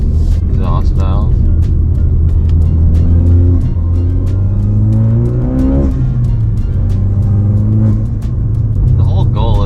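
Modified Ford Focus RS driven on back roads, its engine and exhaust droning loudly and steadily with rising and falling pitch as it revs, plus crackles and pops, while a person talks over it.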